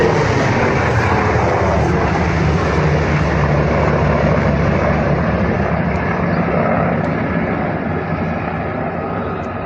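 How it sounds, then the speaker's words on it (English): Helicopter gunships, at least four in two flights, roar overhead in a continuous loud rotor and engine drone that stays steady throughout, with no talk. "So at least 2 flights of gunships there, 4 gunships in total."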